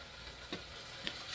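Beef sizzles over medium-low heat in a stew pot, a faint, steady hiss with a couple of small pops and no talking.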